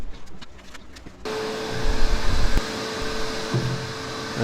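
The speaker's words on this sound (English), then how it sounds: "vacuumed out as much as I could." A vacuum cleaner switches on and roars steadily, sucking particle-board dust out of an old Grizzly table saw during restoration, loud and continuous after a quieter start.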